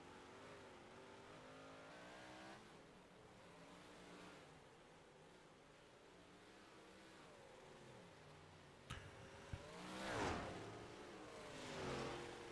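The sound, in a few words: modified race cars on track in racing video game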